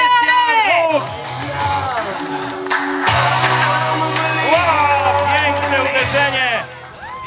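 Crowd at an international knight tournament at Golub castle cheers and applauds, with shouts and whoops over music and an announcer's voice.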